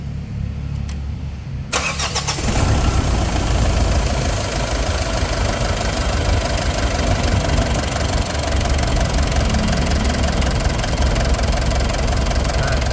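A Mitsubishi Montero engine cranks and fires up after an oil leak repair on the vacuum pump's O-ring, then settles into a steady, loud, close idle that runs alone without talk.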